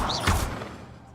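Reparo repair spell being cast in Hogwarts Legacy, a short swirling magical whoosh with a rising tone and a soft low thump, fading quickly.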